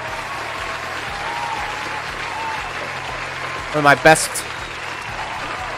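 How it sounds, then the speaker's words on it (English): Sustained audience applause plays steadily for a departing stream guest, an even wash of clapping under a brief spoken phrase and a short burst of louder sound near the end. "Give a huge round of applause to my buddy"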